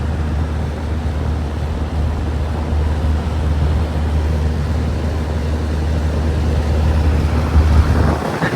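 Two Lennox central air conditioner units with Copeland scroll compressors running outdoors on a very hot day, one fan badly off balance; a loud, steady low hum and whooshing fan drone continues throughout without talk.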